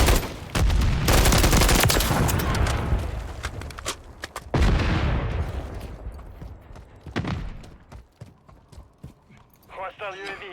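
Loud grenade blast and rapid gunfire in a Modern Warfare 3 team deathmatch on the Quarry map, heavy bursts crowding the first half and then thinning out, with game voices calling out over the fighting.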